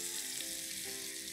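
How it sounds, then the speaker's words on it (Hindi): An Indian tadka, with whole spices sizzling and crackling in hot oil in a pan, gives a continuous hissing fry that stays even and fairly soft throughout, with no voices. "जो है इंडियन तड़का।"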